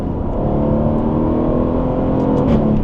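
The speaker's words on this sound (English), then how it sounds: "As the RPMs get higher, the engine gets louder and louder" A car engine roars loudly and continuously, its pitch climbing slightly as the revs build, close and dominant throughout.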